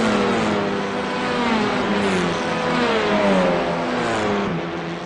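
Honda Civic TCR race cars in the iRacing sim at the Red Bull Ring, close together, with engines revving and whining through gear changes. The engine noise is continuous and loud, and no voices are heard.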